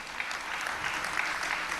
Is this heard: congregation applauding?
yes